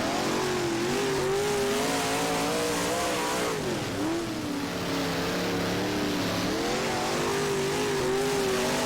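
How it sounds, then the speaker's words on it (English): A big-block race car in the rFactor sim at Lawrenceburg roars steadily at high revs, its engine pitch dipping and climbing through a corner as the rear wheels spin, loud and continuous with no talk. "just getting a lot of wheel spin on the corner exit there on the bottom"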